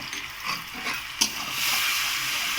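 Onions fry with sugar, salt and turmeric for a chicken curry, giving a close, steady sizzle with a stirring clatter partway through before the hiss swells louder.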